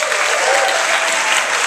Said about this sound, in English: if you'd like to applaud with each name, however you want to do it